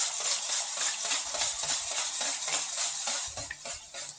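Oil and eggs for a Christmas cake batter are beaten by hand in a bowl, a fast, steady run of rhythmic clinking and scraping strokes, close and clear with no talking.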